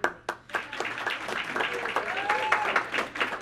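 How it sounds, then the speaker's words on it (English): An audience at a town board meeting claps after a food drive is recognised. A few sharp opening claps swell into a short round of steady applause, with faint voices murmuring underneath. "All right, now we'll clap."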